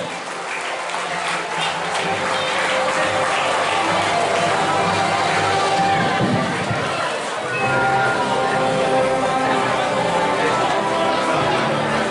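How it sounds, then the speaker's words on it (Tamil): Parents clap together for their children at a school equipment giving event in Trincomalee, a sustained crowd applause with chatter mixed in and a brief dip near the end before it swells again. "உங்க பிள்ளைகளுக்கு எல்லாரும் சேர்ந்து ஒரு கைத்தட்ட"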